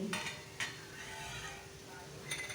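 A spoon stirs a potato bhaji in a metal pot, producing a few sharp scrapes and clinks against the pot over a soft background hiss.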